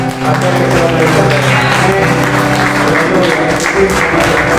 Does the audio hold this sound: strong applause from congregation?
yes